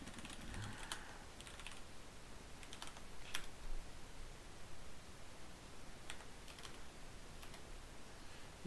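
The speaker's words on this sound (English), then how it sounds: "typing." A computer keyboard clicks faintly in short bursts of typing, separated by quiet pauses, against a soft steady background hiss.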